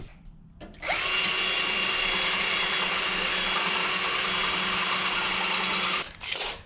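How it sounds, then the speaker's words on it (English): A power drill bores a hole through a wheelie bar with a steady, loud, high whine lasting several seconds, then stops abruptly and briefly restarts. "Alright, drill this out."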